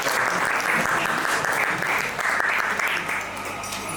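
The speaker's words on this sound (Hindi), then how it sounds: "एक बार जोरदार तालियां" Audience applause at an open mic poetry event, a steady wash of clapping from a crowd that stays even throughout, with faint voices underneath.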